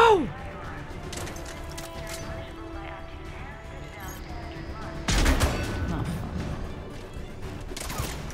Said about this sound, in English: Somebody set up a turret, I can hear it